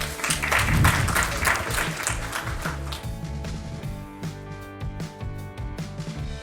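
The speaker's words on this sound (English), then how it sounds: "another louder applause for her" At a medical awards event, an audience applauds an IVF pioneer while music plays. The clapping is strongest early on and fades under the music, which carries on alone toward the end.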